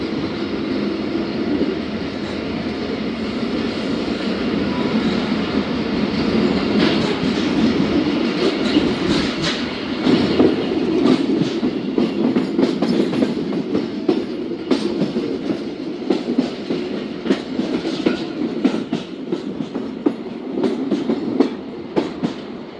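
The Zakariya Express runs between Kotri and Karachi, heard from inside as a loud, continuous rumble with rhythmic clickety-clack of wheels over rail joints and occasional sharper knocks.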